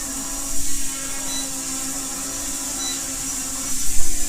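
A small toy drone hovers inside a cramped room, giving a continuous close, buzzing whine of propellers that stays fairly level and swells briefly a couple of times.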